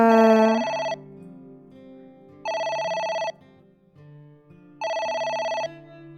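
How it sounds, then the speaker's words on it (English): Telephone ringing in the video game AI: The Somnium Files, three loud, clear electronic ring bursts about two seconds apart with a faint background music bed between them, no talking. "It's the phone. Maybe try picking it up?"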